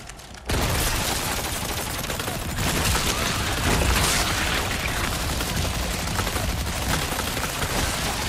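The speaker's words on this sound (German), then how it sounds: "Das ist ja der Wahnsinn, wie schnell die dann einfach explodieren." Parasites on Regenerador enemies burst under gunfire in Resident Evil 4 Remake, a loud, dense, continuous barrage of shots and explosions that starts abruptly after a short quiet moment.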